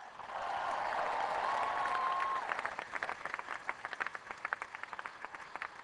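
Applause from a large crowd at an Obama campaign rally in Las Vegas, a dense steady roar of clapping that thins into separate claps toward the end, with a faint whistle early on.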